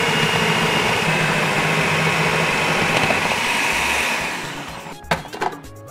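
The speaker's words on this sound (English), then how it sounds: "I have my food processor to do that." A food processor whirs loudly and steadily while slicing unripe plantain, then winds down around the fifth second, followed by a few clattering knocks.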